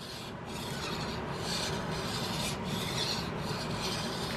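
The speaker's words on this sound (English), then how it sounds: "you only need to draw file the faces on your barrel that are going to be visible when the kit is assembled" Long rasping strokes of a steel file draw-filing the faces of a gun barrel for an Investarms Gemmer Hawken rifle kit, with even, repeated passes at close range and no talk.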